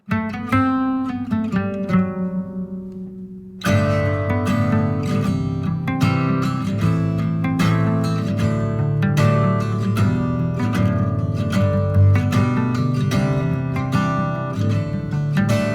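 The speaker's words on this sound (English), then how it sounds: "Let's start with the guitars." Guitars play a melodic line alone, then a fuller band with drums kicks in and carries on loud and steady.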